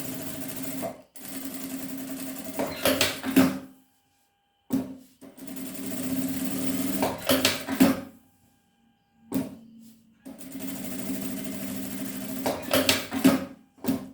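A sewing machine stitches fabric for a small wallet, running in three steady bursts of whirring stitching separated by short pauses.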